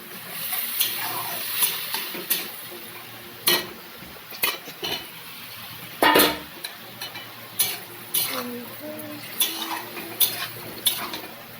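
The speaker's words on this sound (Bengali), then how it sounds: "রসুন পেঁয়াজ হালকা আস্তে করে ভাজতে দিন" Garlic and onion fry gently in a pan under a soft, low sizzle, broken by repeated sharp clinks and scrapes of a utensil stirring against the metal at uneven intervals.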